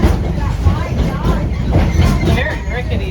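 The Wildlife Express train at Disney's Animal Kingdom rumbles and rattles in a continuous clatter, loud and close, with a voice talking over the ride noise.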